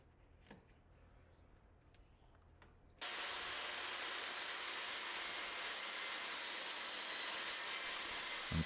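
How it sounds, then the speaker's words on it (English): A saw cuts a bevel along the top edge of a piece of wooden trim for a shed's fascia, starting abruptly after a quiet lead-in and then running as a loud, steady, continuous rasp to the end. "I'm cutting a bit of a bevel into the top edge of this trim so that it can sit real tight up against my siding."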